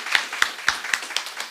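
A church congregation at a Sunday service claps to welcome a returning guest: about six sharp, evenly spaced claps, close and clear, with no voices.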